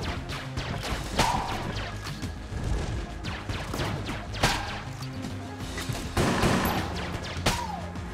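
Dense bursts of cartoonish gunfire from the video game Enter the Gungeon: sharp shots, cracks and impacts come in irregular clusters over a busy game soundtrack, loud and up front.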